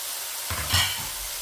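Spring onions drop into a lightly oiled pan and start to sizzle suddenly partway through, a close crackling hiss with a brief stirring scrape, and no talking.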